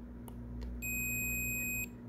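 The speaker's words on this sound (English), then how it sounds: "the positive probe should beep on the top contact of the bottom capacitor" A multimeter gives a continuity beep while its probes test a capacitor inside a PS Vita 1000 handheld. One steady, clear electronic tone sounds for about a second after two faint taps, over a low hum.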